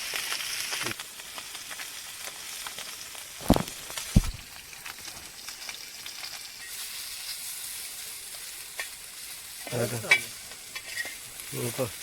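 Fish frying in a pan, giving a steady low sizzle and hiss with a few brief clatters and bursts of stirring, and no talk.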